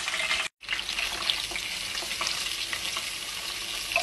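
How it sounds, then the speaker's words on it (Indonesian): Candlenut and garlic fry in hot oil, making a continuous close crackling sizzle that cuts out once briefly near the start and then resumes steadily. "Ini kemirinya sama bawang putihnya aku goreng dulu ya, baru bawang merahnya."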